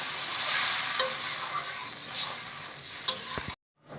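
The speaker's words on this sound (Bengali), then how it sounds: "আলুগুলো দিয়ে জাস্ট 1 মিনিট একটু কষায় নেওয়া হচ্ছে" Potatoes sauté in a hot pan for a fish curry, a loud continuous sizzle with scraping stirs and a few sharp clicks, then sudden silence.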